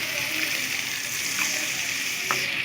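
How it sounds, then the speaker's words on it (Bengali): A little water poured into spice paste of ground onion, chili powder and salt in a pan, a continuous close splashing and hissing rush with a couple of faint clinks and no talking. "এবারে দিয়ে দিচ্ছি সামান্য পানি।"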